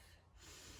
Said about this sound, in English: Big sniff.